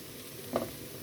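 Chicken pieces dropped into a pan of fried onion, tomato, green chilli, curry leaves and cloves give one brief, loud sizzle burst, then settle back into a low steady frying hiss.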